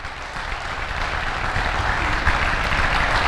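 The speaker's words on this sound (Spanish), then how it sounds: "Recibámoslo con un fuerte aplauso." Audience applause at a school talk, a dense, even wash of clapping from a crowd, sustained at moderate loudness with no voices over it.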